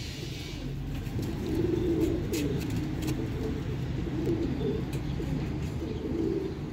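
Pigeons kept by a breeder coo in soft, repeated low phrases, several birds overlapping at close range, with faint chirps and distant background noise and no talk.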